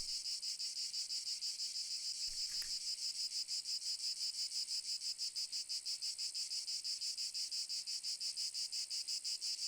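Steady, dense insect chirring of a cicada, close and loud, pulsing continuously in a fast rhythm with no voices over it.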